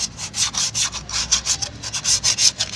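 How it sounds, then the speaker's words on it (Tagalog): A Multicab rear-wheel brake shoe is sanded by hand with quick back-and-forth scratchy strokes, steady and rhythmic, close up and fairly loud, with no talking. "Lihain natin yung konti."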